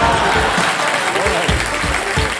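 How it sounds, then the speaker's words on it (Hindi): Studio audience applause on the Indian quiz show Kaun Banega Crorepati, a dense, loud, sustained burst of clapping from a crowd filling the whole moment. "एक बार फिर जोरदार तालियां हो जाए अंकुर वारिकू जी के लिए"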